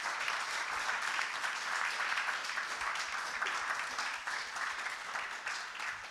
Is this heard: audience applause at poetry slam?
yes